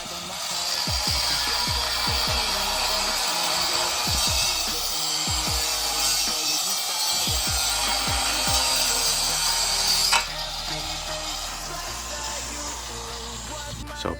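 A power tool saws through metal solar light posts at a pickleball project site, a loud steady grinding whine with repeated knocks and clanks, the cutting stopping abruptly near the end and leaving quieter machine hum.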